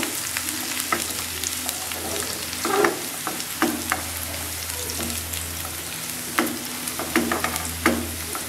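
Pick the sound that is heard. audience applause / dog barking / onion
onion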